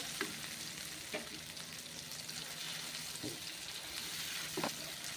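Masvadi curry ingredients sautéed in a pan, a soft continuous sizzle with a few light scrapes of a stirring spoon, quiet and close with no voices.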